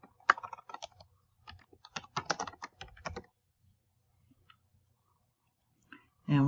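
Name being typed on a computer keyboard: a run of quick, close key clicks for about three seconds, then near silence and a short louder sound at the end.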